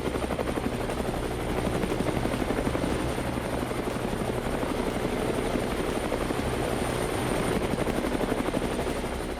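A helicopter flies close by, its rotor giving a steady, loud, rhythmic thrum that holds for the whole stretch.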